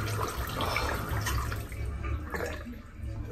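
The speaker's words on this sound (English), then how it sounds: "just rinse the soap out" Tap water running steadily into a sink while shaving soap is rinsed from a brush and face, a continuous close splashing flow lasting a few seconds with no talking.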